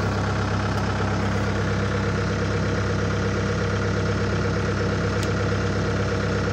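Steady drone of a Bobcat skid steer engine running at constant revs, loud and close, with no change in pitch or rhythm throughout.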